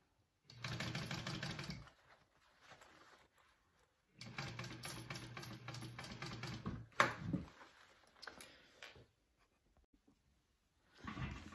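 A sewing machine stitches a quarter-inch seam on a fabric sling in two quick bursts of rapid, steady clatter, with quiet pauses and small handling noises between them and another short burst at the end.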